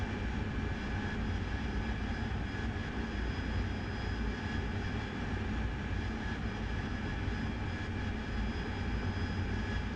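The AV-8B Harrier jet in the DCS flight game flies low through valleys, giving a continuous, steady roar of engine noise with no break and no talk over it.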